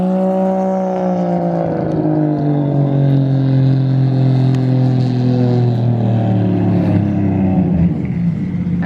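A loud, continuous 1.5JZ engine roar with harmonics sliding slowly downward as the car passes close by, revving steadily with no talking.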